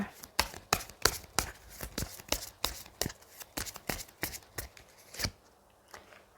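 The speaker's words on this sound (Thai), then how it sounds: "เดี๋ยวเรามาเปิดไพ่ออร์เคิลกันนะคะ" A deck of oracle cards shuffled by hand, giving a rapid series of crisp riffling snaps about twice per second, close and fairly quiet, ending in a brief pause.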